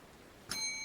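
A single bell rings out in a video game, struck once partway through, then hanging on as a faint, shimmering tone over quiet background.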